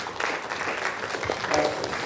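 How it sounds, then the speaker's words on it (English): Audience at a corporate HR conference session clapping together for the seniors, a dense, steady burst of applause from a medium-sized indoor crowd. "A big round of applause for all the seniors."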